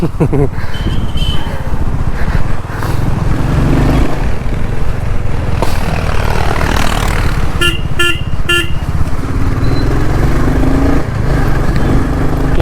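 A Royal Enfield Bullet motorcycle rides through heavy road traffic, its engine droning loud and steady beneath wind rush, with car horns honking nearby and a voice talking over it.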